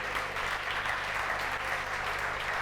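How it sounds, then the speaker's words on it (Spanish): Audience applause welcoming a guest speaker at a Casa del Pueblo election event, a dense, steady clapping from a crowd filling the room, sustained throughout without voices over it. "os pido un aplauso"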